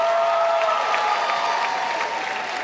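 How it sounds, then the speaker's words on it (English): Graduating class of 2013 at a Queensborough Community College commencement applauding, a dense, steady roar of many hands that fills the hall throughout, with a faint voice lingering at the start. "Give yourself a round of applause."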